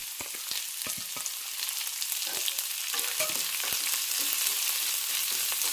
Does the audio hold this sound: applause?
no